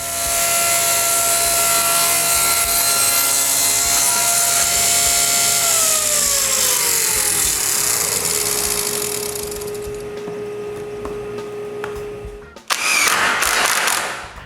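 Power saw cutting a wedge from small wooden clamp jaw blocks in a workshop, a steady loud whine whose pitch sinks as the blade slows and winds down, then a short burst of noise at the end.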